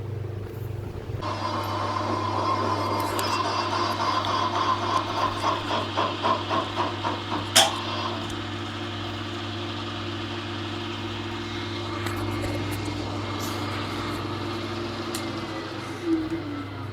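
A steady machining cut on a suspension bridge anchor, taking half-millimetre depth passes, gives a continuous humming drone with a rhythmic ticking chatter partway through and one sharp knock, with no talk over it.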